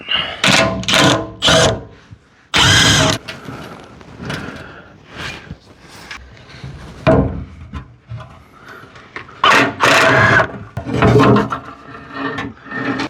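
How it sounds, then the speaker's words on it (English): Bolts are worked loose from the skid plate under a Nissan Armada, giving close, irregular bursts of clanking, scraping and rattling metal with uneven pauses between them. "I gotta drop this skid plate, which I do believe is just these two bolts"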